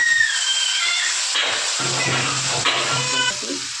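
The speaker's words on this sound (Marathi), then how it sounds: "टोमॅटो आणि कांदा थोडी तेलात भाजून" Tomato and onion fry in oil with whole spices for a dhaba-style chicken masala, giving a steady close hiss and sizzle throughout, with a few faint clinks.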